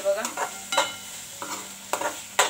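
Tomato and masala fry over a high flame for girmit masala, with sizzling under several sharp scrapes and stirring strokes of a spoon against the pan, close and alone without talk.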